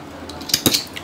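Thin scissors cut net fabric for kundan work on a blouse, making a few quick, close, crisp snipping clicks in about a second.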